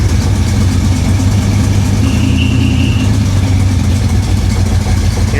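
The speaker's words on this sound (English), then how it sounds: "Hear that belt squealing again." A flooded 1966 Impala engine idles loudly and steadily up close with a rough low rumble, while a thin squeal from a slipping belt rises briefly in the middle.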